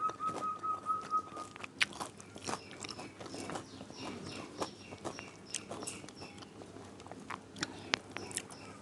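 Close chewing of crispy battered fried eggplant, a run of rapid sharp crunches and bites with wet mouth sounds.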